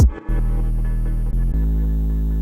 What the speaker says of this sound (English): It's just a sine wave with some FM from another sine wave an octave up